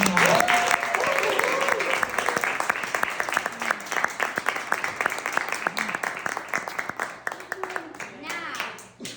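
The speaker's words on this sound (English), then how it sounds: "this is the crowd hollering and cheering" A crowd hollers and cheers with loud, dense clapping from the start, fading gradually toward the end, with voices mixed in among the applause.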